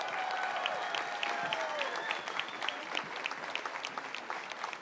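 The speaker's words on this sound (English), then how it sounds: "Let's give a huge round of applause to the 188th Army Band of the North Dakota Army National Guard." An audience applauds the 188th Army Band of the North Dakota Army National Guard at an outdoor event, with sustained dense clapping from a crowd and faint cheering mixed in.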